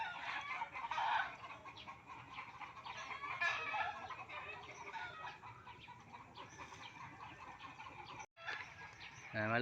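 Chickens cluck and squawk continuously, fairly close, a busy overlapping chatter of several birds with a brief dropout near the end.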